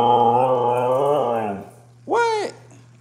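A husky vocalizes in a long, wavering growl-like moan, then gives a short rising and falling whimpering yelp, loud and close.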